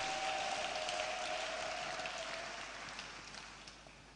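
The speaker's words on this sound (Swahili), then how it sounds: "Ongeza makofi na vigeregere kwa ajili ya Bwana" A church service congregation applauding for the Lord, a dense steady patter of many hands with a faint high ululating note early on, gradually fading.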